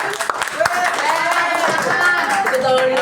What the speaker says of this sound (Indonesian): Oke, tepuk tangan dulu tentunya.